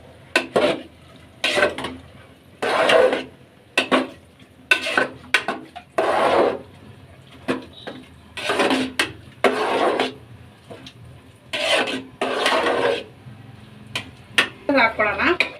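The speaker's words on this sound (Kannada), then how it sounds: "ಸೊ ಈಗ ಎಲ್ಲ ಮಿಕ್ಸ್ ಮಾಡ್ಕೊಳ್ಳೋಣ" A spoon scrapes and clatters against a pan while peas, mushrooms and tomato puree are mixed into a curry, in repeated short bursts of stirring separated by brief pauses, with talking heard between strokes.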